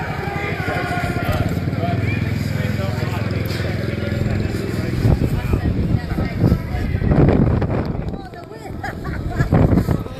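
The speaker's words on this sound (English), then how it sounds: "It's very windy out here today." Wind buffets the microphone in heavy low rumbling gusts at an outdoor Yellow Vest protest in London, swelling and easing, with voices talking underneath.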